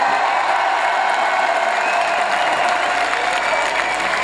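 A festival audience at the Chien Plume festival applauding loudly, dense continuous clapping that fills the space with a faint crowd murmur beneath.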